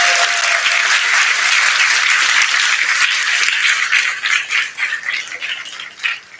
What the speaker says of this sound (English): Think of your favorite speaker that you saw up here and then clap appropriately.